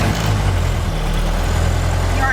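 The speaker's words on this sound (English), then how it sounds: "Sounds like it might have a little exhaust leak." A Ford Model A engine with a small exhaust leak idles close by in a low, steady, throbbing putter, with a voice talking over it.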